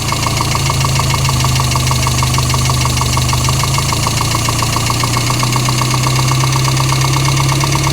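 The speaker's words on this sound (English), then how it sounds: "Now there's the high idle." A Chevy Luv engine runs at high idle while warming up after a carburetor tune-up, giving a loud, steady drone with a faint repetitive ticking throughout and the pitch creeping slightly upward near the end.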